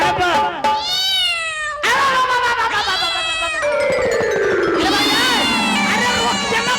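Cat-like meows during a Maithili comedy stage show about Ram's wedding. Several loud, drawn-out, wavering mews rise and fall, the last one sliding down in a long wail, with crowd noise underneath.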